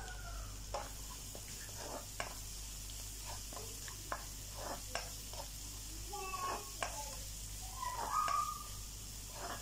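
Spices and turmeric fry in a pan with a faint, steady sizzle, broken by occasional scraping stirs, heard close and quiet in a home kitchen.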